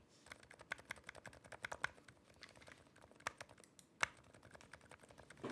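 Typing on a mechanical keyboard fitted with silent switches, a steady run of soft, muted keystrokes at an uneven pace with one sharper tap near the end, close and alone without talk.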